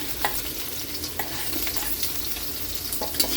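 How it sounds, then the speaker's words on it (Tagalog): Garlic and onion sautéing in a hot pan for pork dinuguan, a steady close sizzle and fry with a few clicks of stirring, no talk. "Lagay na natin yung bawang at sibuyas."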